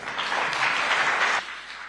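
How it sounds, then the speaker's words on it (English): Audience applause at a health financing dialogue at Safari Park, a dense, steady clapping from a crowd lasting over a second before cutting off abruptly, leaving quiet room tone. "Another round of applause, ladies and gentlemen."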